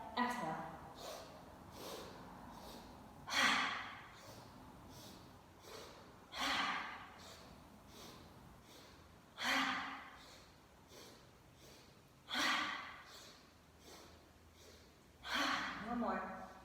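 Rhythmic yoga breathing recurs in regular cycles about every three seconds, each a series of short sharp sniffing inhales followed by a longer audible exhale, close and fairly quiet.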